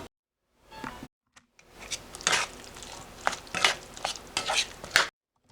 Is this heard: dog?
no